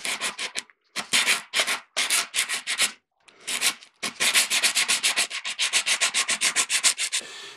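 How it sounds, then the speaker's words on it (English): Sandpaper on a backer block rubbing across a mandolin panel in rhythmic back-and-forth strokes, close and steady, with brief pauses between bursts and no talking. "now with the bigger backer, I'm going to work on this side."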